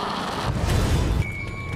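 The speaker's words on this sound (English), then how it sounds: "One exploded, taking player down." An enemy explodes in The Witcher 2, a heavy booming blast with crashing debris, loud and close, followed by a thinner ringing tone.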